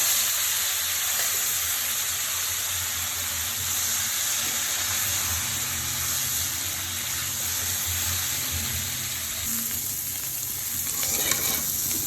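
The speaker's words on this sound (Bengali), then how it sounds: "একই তেলে কপি আলুগুলি ভেজে নেব।" Cauliflower and potato pieces fry in oil with a steady, broad crackling sizzle that runs continuously throughout, with faint clinks and stirring scrapes underneath and no voices.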